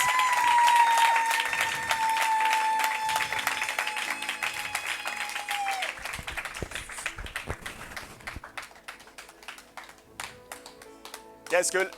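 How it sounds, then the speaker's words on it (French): A church congregation claps and applauds loudly at a gathering led by an archbishop, with a sustained tone at first, then dense, steady clapping, a few sharp slaps and voices mixed in. "Clap your hands."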